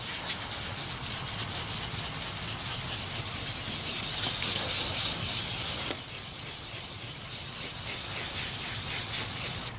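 Abrasive wet sanding works heavy oxidation off a faded, fogged car headlight lens, producing a continuous close scratchy hiss with rhythmic rubbing strokes and a short break midway.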